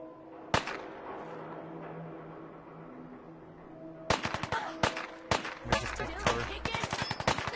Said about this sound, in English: that guy's just blind firing. You hear him like shoot in the distance